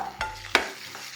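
Vegetables such as onion, green chilli, capsicum and tomato stirred in a pan for upma, giving two short scraping, sizzling bursts over a faint steady fry, close and fairly quiet.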